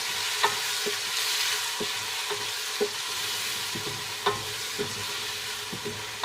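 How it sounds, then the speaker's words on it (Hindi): Salt is stirred into a biryani pot with gentle scraping and periodic clinks of the spoon against the vessel over a soft background sizzle, with no voices. "इसमें मैं नमक जो है 2 चम्मच शामिल करने जा रही हूँ। और इसे मैं अच्छे से मिक्स करूँगी।"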